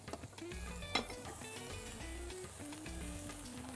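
Chicken sizzling steadily in a pan, with a spoon or spatula stirring through it and an occasional clink of metal against the pan, close and continuous with no talk.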